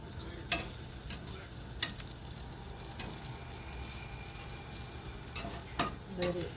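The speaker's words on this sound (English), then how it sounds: "give it some chop in there. Mix it all up good." Philly steak meat sizzles steadily on a hot griddle while a spatula chops and mixes it, sharp metallic clacks striking every second or so over the constant frying hiss.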